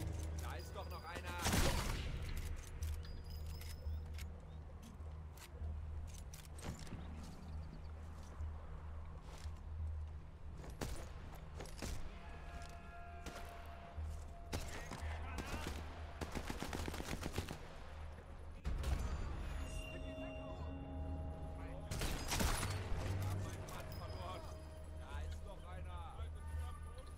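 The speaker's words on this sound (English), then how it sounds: "I'm just getting shot at through bushes" Gunfire in the video game Sniper Elite 4, set in a village, comes as a steady stream of shots and sharp cracks, with a few louder bursts standing out over constant background game noise.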